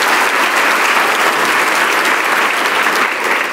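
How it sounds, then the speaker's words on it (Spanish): A church congregation gives sustained, dense applause during a worship service, a steady full wash of clapping from a crowd with little talk. "Y dele un aplauso a la sangre de Jesucristo de Nazaret."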